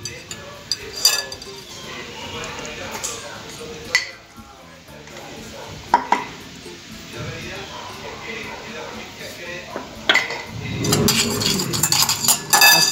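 Lemon, vinegar, salt and oil dressing being whisked in a bowl for a Christmas dinner side, with a steady run of light clinks and scraping of utensil against the bowl while a person talks over it.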